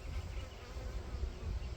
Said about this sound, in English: There's so many bees on here.